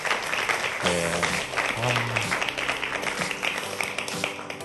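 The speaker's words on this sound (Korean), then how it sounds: "큰 박수 부탁드리겠습니다" An audience at a youth startup lecture claps and applauds throughout, with voices or tonal sounds rising over the clapping at moments.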